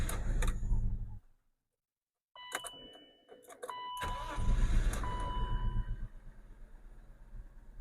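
BMW E39 with an M54 engine cranking and firing up after a battery reconnect, a chime, short silence, then the starter whir and the engine catching into a steady idle, close by.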